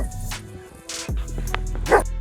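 A dog barks and yelps while fighting a cougar, giving several short sharp barks with rough noisy bursts and low thuds over a couple of seconds.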